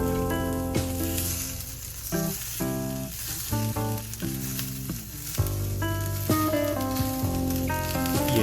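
A rib eye steak sizzles in a hot pan, its faint steady crackle and hiss running continuously beneath prominent background music.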